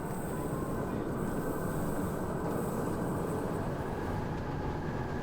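A train on the Oslo to Bergen line in Norway rolls along with a constant, dense low rumble and rail noise heard from on board. No voices.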